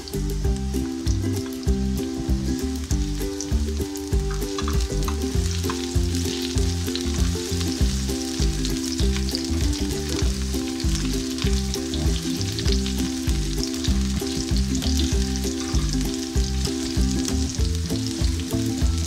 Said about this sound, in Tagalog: So, pag medyo brown na po si garlic, ilalagay na din po natin yung onion.